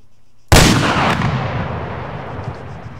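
A single loud, booming shot from a Barrett M107 .50 caliber rifle in Arma 3, a sharp crack up close followed by a long rolling echo that fades slowly.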